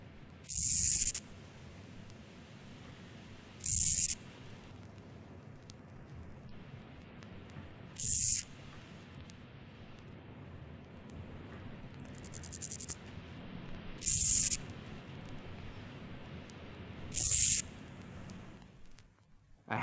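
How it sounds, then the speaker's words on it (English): Two male meadow grasshoppers stridulating against each other, short dry buzzing bursts repeated every few seconds over a quiet outdoor background. "lives the meadow grasshopper, of which species 2 males can now be heard stridulating against each other"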